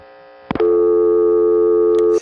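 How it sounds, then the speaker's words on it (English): A brief click of a rotary telephone dial coming to rest, followed at once by a short steady burst of dial tone lasting under two seconds, loud and close, ending abruptly. "Did you notice that little burst of dial tone that we heard just as the dial came back to rest?"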